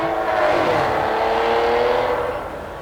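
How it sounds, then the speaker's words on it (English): A loud, sustained engine howl from a high-revving Aston Martin DB9 V12 sports car on a track, rising and holding steady before easing off at the end. "all of a sudden that exhaust kicks in and you can hear that wonderful howl of that"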